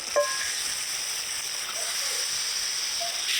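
Chicken feet, skin and gizzard hit hot spiced oil in a wok, giving a loud, steady hiss and sizzle close by, with a faint clink at the start and no voices.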